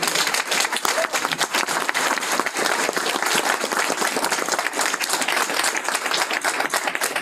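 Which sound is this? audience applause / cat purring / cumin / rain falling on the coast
audience applause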